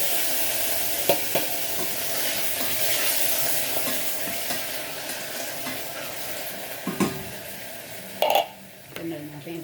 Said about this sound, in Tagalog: Gisa na natin yung mushroom